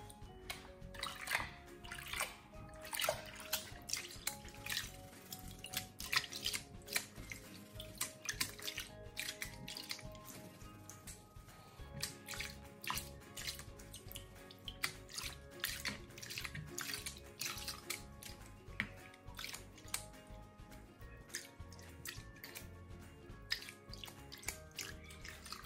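Paydirt being panned for gold in a pan of water: faint sloshing, swirling and dripping with scattered clicks of gravel, continuous and close, no talking.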